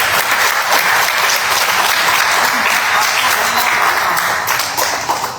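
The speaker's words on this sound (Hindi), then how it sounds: "तालियां" Sustained applause from a large audience, steady and dense throughout, tapering slightly at the end.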